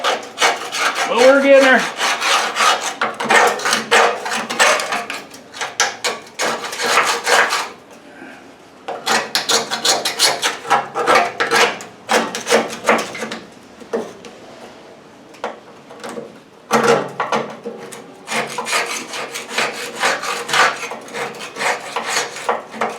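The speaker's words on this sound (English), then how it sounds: "It's hard to get the wire wheel into some of these places." Wire wheel scrubbing rust and grime off a VW chassis in a garage: loud, rough abrasive rasping in repeated bursts with short pauses between, close up.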